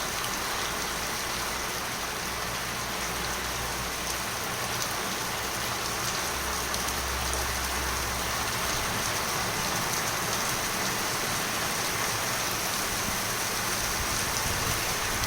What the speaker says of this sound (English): Oh, it's getting stronger and stronger now.